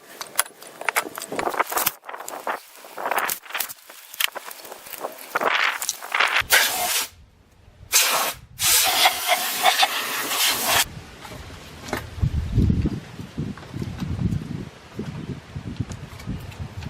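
Compressed air blasting off a Hyundai Sonata engine head during a valve cover gasket job, loud hissing bursts in the middle between clattering, jangling handling noises, then fainter rustling afterward.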